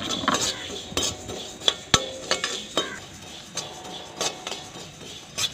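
Coriander seeds dry-roasting in a heated pan, heard as a series of rattling scrapes and metallic clinks from a spatula stirring, close and fairly quiet with a faint background hiss, no talking.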